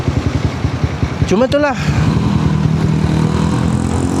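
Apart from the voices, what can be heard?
Honda CBR250R motorcycle engine with noisy timing chain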